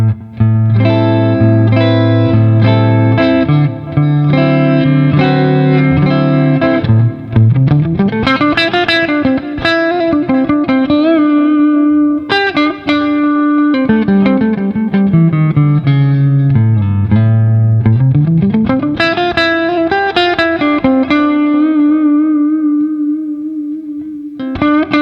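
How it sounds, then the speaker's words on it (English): Electric guitar through distortion and effects, played on the neck pickup of a Vola JZ FRO with a bridge P90 also fitted: loud sustained notes and chords with sliding bends, close and continuous, no talking. "it's time for first tones. We're going to start in the neck pickup and work our way to that bridge P90"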